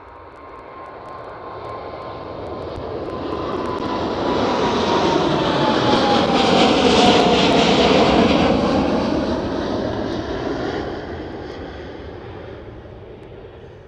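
A KLM Boeing 787 passes at Amsterdam Schiphol, its jet roar building from a distance to a loud peak midway with a falling engine whine, then receding smoothly.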